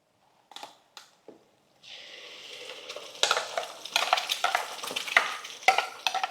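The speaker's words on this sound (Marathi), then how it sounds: "आता आपल्याला हे वाटण चांगलं असं फ्राय करून घ्यायचंय" Ground masala paste frying in a pan with plain khoa. A few soft clicks come first, then a loud, continuous close sizzle starts, punctuated by repeated scraping stirs. No one speaks.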